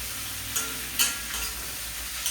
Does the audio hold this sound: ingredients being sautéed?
yes